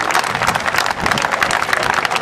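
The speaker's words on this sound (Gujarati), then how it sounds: "આપણે સૌ તાળીઓથી મિત્રો વધાવી લઈએ" Warm applause from a crowd at a public honouring ceremony in Kutch, dense and loud throughout the short span, with no talking over it.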